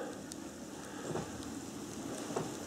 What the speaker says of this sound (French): on a la pluie et le brouillard